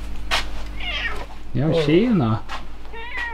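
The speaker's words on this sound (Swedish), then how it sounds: "Nu kommer min trebenta katt." A three-legged cat meows several times, one long wavering meow in the middle, close by, while a person speaks briefly around it.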